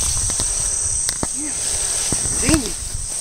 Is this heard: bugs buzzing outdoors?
yes